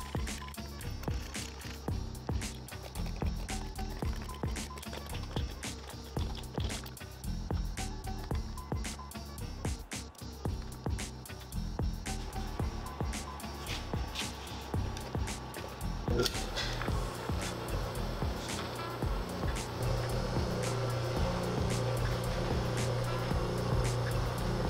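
Small motor driving a universal marble machine lift, running steadily for about 25 seconds with a repetitive mechanical clicking rhythm; the tone shifts and becomes a smoother hum partway through, with no talking.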